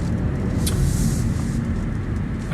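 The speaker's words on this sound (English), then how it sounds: "So let's drive the ATS Coupe." A 2015 Cadillac ATS Coupe with a 3.6L V6 drives on the road, its engine a steady low rumble heard from inside the cabin, close and continuous.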